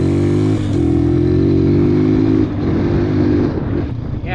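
A Honda CRF230 dirt bike engine idles steadily and close by after a jetting adjustment, giving a throaty, even thump with a brief dip and some clatter near the end.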